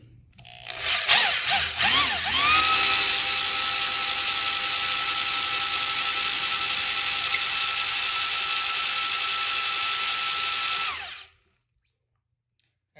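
A half-inch drill motor spins a priming tool to prime the oil pump of a Ford 496 FE engine, giving a steady, loud mechanical whine that holds for about ten seconds after a short start, then cuts off to silence.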